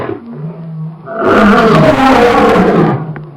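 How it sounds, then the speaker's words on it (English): A lion gives a deep, loud, close roar that swells for about two seconds after a lower rumbling lead-in. "A lion's roar is one of the loudest sounds made by any land animal"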